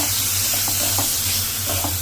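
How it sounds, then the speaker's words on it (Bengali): Potatoes, onion and spices sautéing in oil for a tilapia curry with fresh vegetables, giving a steady close sizzle with soft scraping stir strokes about twice a second. "পেঁয়াজ, তারপরে এখানে সবকিছু মশলা দিয়ে ভালো করে কষিয়ে নেব।"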